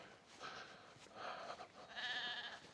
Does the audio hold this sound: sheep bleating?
yes